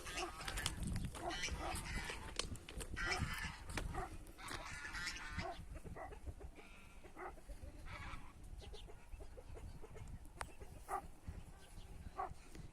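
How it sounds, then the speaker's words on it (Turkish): On a farm, a dog barks repeatedly at other dogs along a wire fence while chickens and geese cluck and honk around it, all at moderate distance. "telin yanında ya köpekler var. Onlara havlıyor Cancan."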